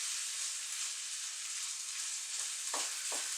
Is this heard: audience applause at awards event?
no